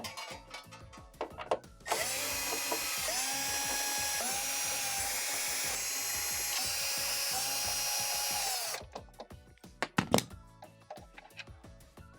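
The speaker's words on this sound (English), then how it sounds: "we're going to just remove the 1/4 inch screws that run around the" A power drill whirs loudly in steady bursts, running the 1/4 inch screws out around the perimeter of a Swash by Whirlpool heater housing, with ratcheting clicks and metallic taps from handling before and after.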